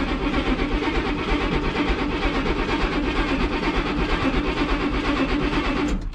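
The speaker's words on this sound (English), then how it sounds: "Just gonna crank and see what happens" A 1966 Oldsmobile Toronado engine, left sitting for 11 years, cranking steadily on the starter without catching: a continuous rhythmic churning held for about six seconds, close and loud, then cut off abruptly.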